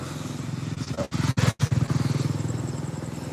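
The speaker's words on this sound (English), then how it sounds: "Got some trike coming by and a motorcycle too." A motorcycle and a trike roll past on a street, their engines rumbling close and steady over the whole stretch with a brief dip partway through.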